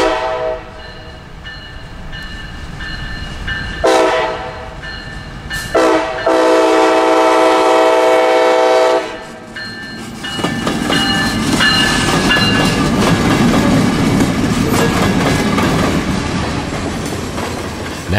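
Freight train 0738 hauling two loaded hoppers climbs a hill into downtown Auburndale, Florida, its horn blasting in repeated long blows before steady wheel clatter and rumble of the cars rolling past close by.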